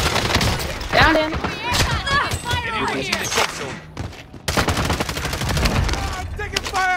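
Rapid gunfire crackles through a chaotic video game firefight, bursts and shattering impacts layered densely, with excited speech over the shooting.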